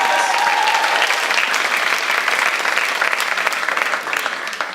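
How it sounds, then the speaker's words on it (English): A live audience at a poetry slam in Chicago applauds steadily as the judges walk to their seats, a dense wash of clapping that stays loud throughout and tapers slightly at the end. "give them a little round of applause as they make their way up to their"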